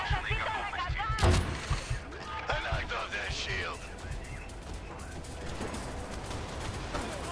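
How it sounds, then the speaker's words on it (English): Gunfire in a video game: loud sharp shots and rattling bursts, densest early with one heavy crack, then sparser thuds over ongoing game noise and excited voices talking. "Where's the sniper? I'm being sniped!"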